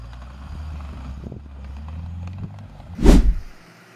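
A homemade tractor from about 1941, built from a 1930 Plymouth car with a Chevy truck transmission and a Model TT rear axle, runs with a steady low engine rumble that ends in one loud, short roaring burst. No voices.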